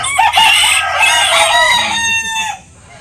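A rooster crows loudly nearby in one long drawn-out call, with chickens clucking faintly in the background.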